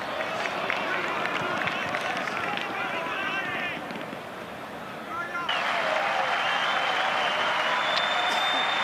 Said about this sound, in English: listen to the round of applause that Ibrahimovic is getting from everybody here